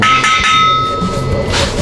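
A hollow-sounding panel in a small home studio build being tapped by hand, a few close knocks with a ringing tone at the start, followed by a low murmur of voice.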